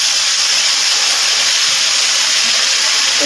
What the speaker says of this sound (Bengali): পাঁচফোড়নটা তেলে একটু নাড়াচাড়া করে নিয়েছি। এবার দিয়ে দিচ্ছি 1 চামচ আদা বাটা।